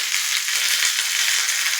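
Curry leaves hitting hot tempering oil with mustard seeds for a chutney, giving a steady, dense close-up sizzle and crackle that holds at an even loudness for the whole stretch with no voices.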